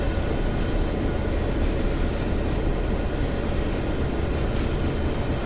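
A long goods train rolls past on the Clinchfield Railroad's Greenbriar Branch in Train Sim World 2, giving a steady, dense rumble of wagons that holds at an even loudness throughout with no break.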